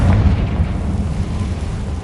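A Confringo fire spell bursts in Hogwarts Legacy with a deep, rumbling boom that rolls out low and loud, then lingers as a sustained heavy roar for a couple of seconds.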